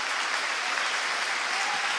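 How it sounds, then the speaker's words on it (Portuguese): A church congregation applauding, steady dense clapping that fills the space evenly for a brief moment. "Você consegue aplaudir o Senhor pela sua palavra agora?"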